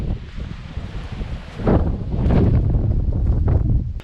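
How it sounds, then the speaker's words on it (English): Gusty wind of up to 80 km/h buffets the microphone over a new lawn with low rumbling bursts, growing stronger in the second half, with no voices. "even now it's windy"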